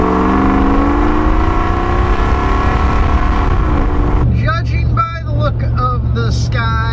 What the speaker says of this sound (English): with that load on it, the LR4 is pretty rowdy sounding